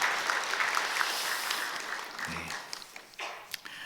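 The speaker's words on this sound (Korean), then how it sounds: "우리 박수로 감사합니다." A church congregation applauds at a Christmas Day Sunday service, a steady, moderately distant wash of many hands clapping that thins slightly toward the end.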